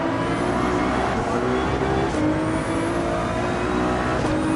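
Ferrari 296 GTB racing engine in Gran Turismo 7, a loud continuous drone that rises and falls through gear changes and revs, sustained and close throughout.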